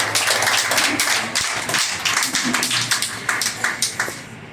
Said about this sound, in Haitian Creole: Sous applaudissement